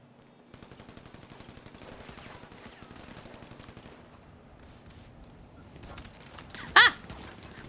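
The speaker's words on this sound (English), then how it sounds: "Who's shooting me?" Rapid gunfire crackles in a GTA V roleplay on the NoPixel server, as faint, steady repeated shots that end with a brief sharp burst.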